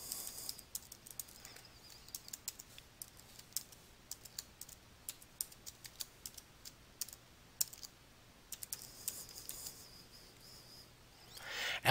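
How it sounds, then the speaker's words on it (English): Computer keyboard typing as an email address and password are entered, a steady run of light, close key clicks with brief pauses and a faint low hum underneath. "You can then enter your Adobe ID by typing the Adobe ID email address and password"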